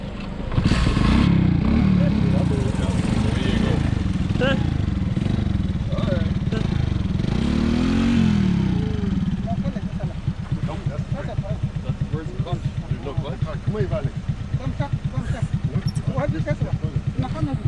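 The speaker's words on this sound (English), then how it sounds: "trying to ride the motorbike" A motorbike engine runs loud and close while being ridden in Burkina Faso, revving and droning steadily, then drops to a rapid idling putter toward the end.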